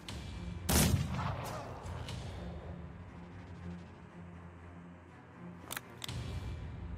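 A sniper shot in Mordheim: City of the Damned rings out as one sharp crack with a trailing echo. Quieter ambience follows, then a pair of clicks and a smaller burst near the end.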